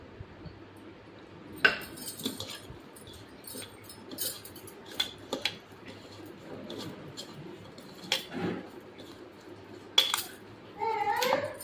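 A spoon stirring a garlic and peanut oil mixture for mango pickle, light clinks and scrapes against the container at scattered moments over a quiet background.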